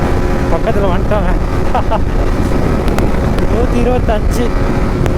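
Loud, steady wind roar buffeting the microphone while riding a Yamaha MT-15 motorcycle at speed on a highway, continuous throughout with faint voices underneath.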